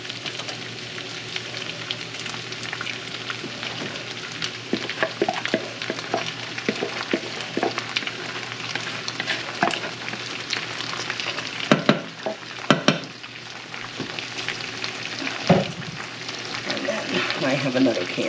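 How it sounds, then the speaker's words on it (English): Leftover pasta sauce sizzles and spits steadily in a hot pan for a long stretch, with stirring scrapes and a few sharp clatters partway through. "now I've got some leftover pasta sauce here, so I'll put that in"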